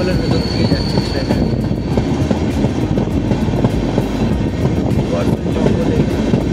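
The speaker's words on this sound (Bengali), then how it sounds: "ট্রেন এখন পুরো গতিতে চলছে" The 13149 Kanchankanya Express races at full speed through forest near Buxa Tiger Reserve, heard from inside the coach as a loud, steady rumble with rhythmic clickety-clack of wheels over rail joints and faint voices underneath.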